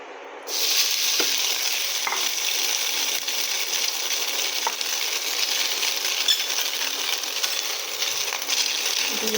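Steamed shredded chicken frying in a kadai, a steady close hiss of sizzling oil starting abruptly, with occasional sharp clicks of the stirring spoon against the metal.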